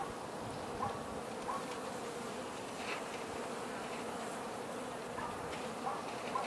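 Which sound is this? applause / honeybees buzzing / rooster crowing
honeybees buzzing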